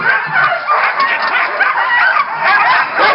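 Sled dogs at a husky homestead in Denali, Alaska bark and yip in a continuous overlapping chorus, loud and close, with some whimpering mixed in.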